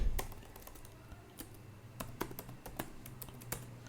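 Fingers type code on a computer keyboard, making a close run of crisp, uneven key clicks with brief pauses between bursts.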